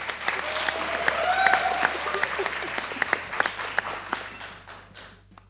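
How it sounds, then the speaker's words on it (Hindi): Studio audience applause on a Pakistani cricket talk show, steady dense clapping that swells through the middle and tapers off toward the end, with a few sharper individual claps standing out near the close. "तालियां बजाइए दोनों के लिए।"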